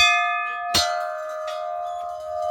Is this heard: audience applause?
no